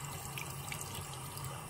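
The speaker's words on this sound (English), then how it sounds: "now we're going to rinse this guy down so I don't get a bunch of unnecessary dirt in my tanks" Running tap water rinses a nightcrawler worm, a steady, close splashing stream with no voices.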